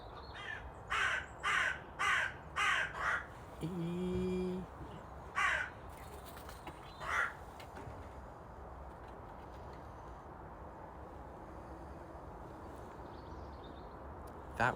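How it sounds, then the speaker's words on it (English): A large raven gives a series of loud, harsh caws in a quick rhythm, then two more isolated calls after a pause, with faint background noise and no talking. "That was a very big, probably raven."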